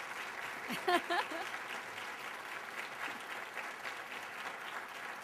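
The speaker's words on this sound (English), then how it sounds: "You guys better give her a round of applause" A luncheon crowd applauds Gloria Molina, a soft, distant wash of clapping with a brief voice near the start, the steady patter continuing faintly throughout.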